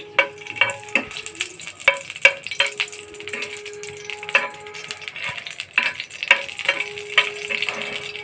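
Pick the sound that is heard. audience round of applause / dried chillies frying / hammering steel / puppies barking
dried chillies frying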